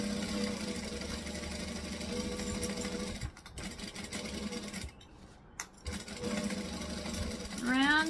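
A sewing machine runs steadily through canvas at a 2.5 joining stitch length, stitching forward and then backstitching. Its motor hums continuously, with two brief pauses where the needle stops.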